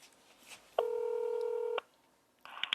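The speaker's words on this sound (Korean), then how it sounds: "전화 한번 연결해 볼게요" Telephone dialing tones: one sustained DTMF tone lasting about a second, followed after a pause by a short burst of quicker key tones, faint room noise around them.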